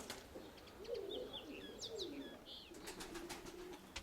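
A soft, low pigeon coo rolls on and off, with a few faint chirps and a light tapping sound behind it, quiet and close.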